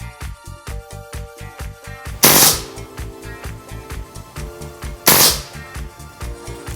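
An Umarex M712 BB gun powered by CO2 fires on full auto, a rapid, evenly spaced stream of sharp pops with two louder hissing bursts of gas, close and loud with no talking.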